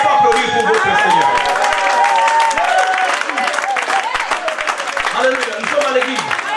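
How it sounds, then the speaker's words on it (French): A church congregation claps for the Lord during a sermon, a steady spatter of hands filling the hall while voices carry on over it. "Pourquoi ne pas applaudir pour votre Seigneur?"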